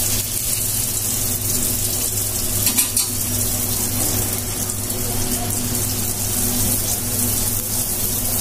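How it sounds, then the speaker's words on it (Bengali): Teler pitha, a Bangladeshi rice-flour cake, deep-frying in hot oil, giving a steady, close, continuous sizzle and bubbling that holds at an even level throughout, with no voices. "তারপর আমরা পিঠা ভাজবো।"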